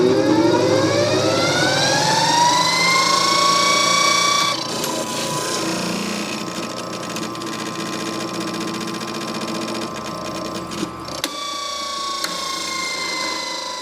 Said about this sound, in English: To change direction of rotation, the brush position can be moved to the right to have the motor run clockwise.